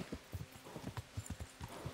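Rapid, rhythmic hoofbeats of a galloping horse in the video game Kingdom Come: Deliverance, loud and close, with a faint whinny-like tone in the background.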